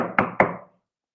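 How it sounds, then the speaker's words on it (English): Two firm knocks on an inn door, close and crisp, spaced a fraction of a second apart, each ringing briefly before fading into silence. "he entered that village and went up to the inn and he knocked at the door."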